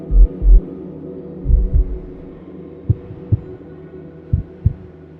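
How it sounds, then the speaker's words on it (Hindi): Fast heartbeat sound effect for a Hindi horror story, with paired low thumps repeating in a quick, uneven rhythm. The beats are close and loud at first, then fainter, with a soft hum between them and no talk. "अनवी की दिल की धड़कन तेज हो गई"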